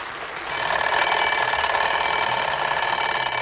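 A performer's voice imitates a radio alarm clock starting up in the morning, a steady buzzing, tone-laden drone that swells in after a brief moment and holds loud and unbroken, with no talk over it.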